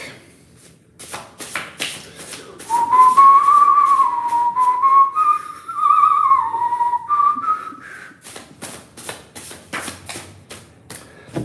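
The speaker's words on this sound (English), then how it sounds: "Lost my ability to whistle like a bird since I lost my teeth" A man whistles a long, wavering, birdlike melody for several seconds, set amid tarot cards being shuffled and tapped, with soft card clicks before and after the tune.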